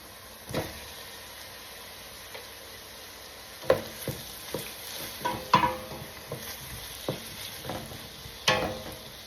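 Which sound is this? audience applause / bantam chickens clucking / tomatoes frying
tomatoes frying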